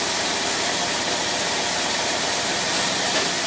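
An engine fitted with a Russell Motorcraft two-barrel carburetor runs on a dynamometer with a torque converter load, giving a loud, steady broadband roar and hiss without pauses or talking.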